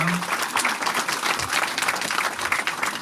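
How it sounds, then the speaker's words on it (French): An audience at a Valentine's Day 2023 matinée show applauds steadily, with dense clapping sustained throughout and no voices over it. "Merci Léon, alors on l'applaudit pour sa sortie, parce qu'il le mérite"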